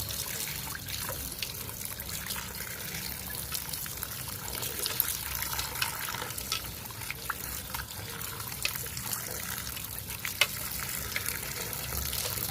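Potatoes being rubbed and washed in a strainer over a plate, with water running and splashing continuously and close throughout, steady and fairly loud.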